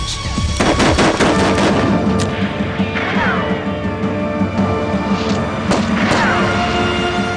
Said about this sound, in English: The Colt was the first reliable multi-shot gun, 6 shots in as many seconds.